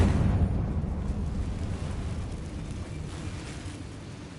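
Confringo fire-blast spell exploding in the Hogwarts Legacy video game, a loud rumbling burst at the start that rolls on as a broad roar and slowly fades.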